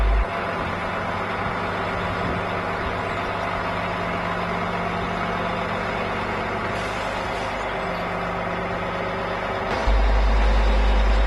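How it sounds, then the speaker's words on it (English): A road-rail crane, a 75 tonne metre machine, rumbles steadily as its central driven bogie pushes the tug off the track, with a continuous heavy engine drone and a sharp change in the last second. "The central driven bogie pushes the tug off the track."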